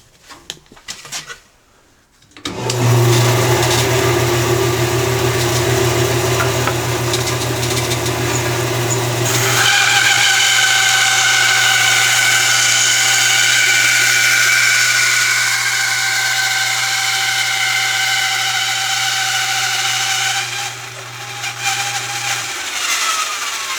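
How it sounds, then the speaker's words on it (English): Bandsaw cutting a wooden router inlay patch free, the motor spinning up to a loud steady hum, pitch shifting as the blade bites through the wood, then winding down near the end. "now I can take this over to the bandsaw and cut it off."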